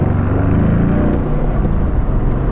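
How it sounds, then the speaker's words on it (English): A manual Aston Martin with a 510 hp AMG 4-litre twin-turbo V8 is being driven, a loud, continuous engine roar with a slight dip and swell midway, without speech. "the 4-litre twin turbocharged V8 engine from AMG up front"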